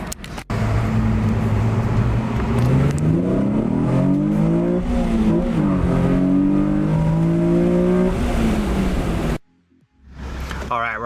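A 306 hp Nissan 350Z Nismo pulls hard from low revs, its engine note rising steadily through the gears and sounding loud and close from inside the cabin, then cutting off abruptly near the end. A voice talks over it.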